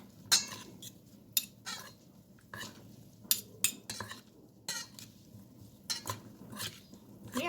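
Kevätesikko flowers and leaves tossed gently into a salad, with a utensil clinking and scraping against the bowl in irregular bursts, close and fairly quiet, no talking.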